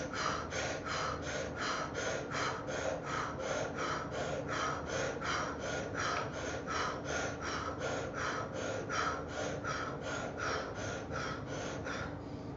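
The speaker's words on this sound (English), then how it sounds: "Breath is intense here, folks." Intense rhythmic breathing exercise during a meditation session, with about two dozen rapid, forceful breaths pumped in an even, fast rhythm, close and steady throughout.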